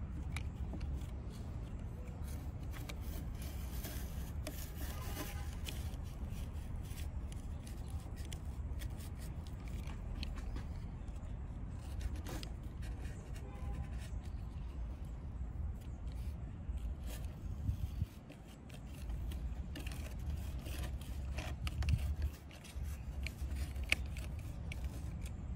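A knife cuts along the edge of a tegular ceiling tile, making a long, steady, fairly quiet run of scraping and slicing noise, with a few small bumps and a brief pause near the end.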